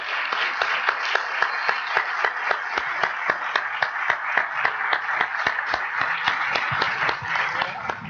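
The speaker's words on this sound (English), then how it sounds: "can we please have one final round of applause" A crowd applauding steadily, dense overlapping claps with a few louder individual claps standing out, sustained throughout.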